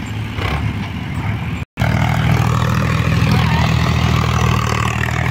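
A Sonalika 745 tractor, a barely broken-in 2023 model, runs with a steady, loud diesel drone and deep throbbing rumble; the sound cuts out for an instant, then returns just as strong and continuous.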